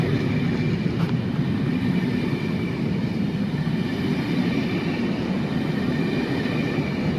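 Diesel train running with just a tail lamp and no other locomotive, a steady rumbling roll of wheels on rails heard at moderate distance, continuous for several seconds.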